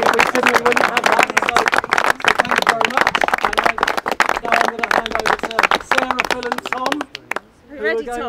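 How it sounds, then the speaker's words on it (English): Brisk clapping from a gathered crowd marks a building opening at Clement Lodge, Sidestrand Hall, close and continuous, with chatter and a voice woven through it and the clapping fading as speech takes over. "Big round of applause for Seamus Faverley"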